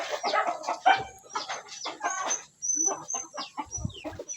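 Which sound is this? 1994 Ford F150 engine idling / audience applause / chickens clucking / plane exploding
chickens clucking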